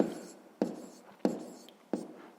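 A pen or pencil scratches out a fifth-grade math equation by hand in three short, evenly spaced strokes, close and fairly quiet, with nothing else in the background.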